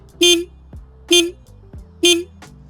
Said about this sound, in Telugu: లౌడ్ హార్న్ ప్రొవైడ్ చేస్తున్నారు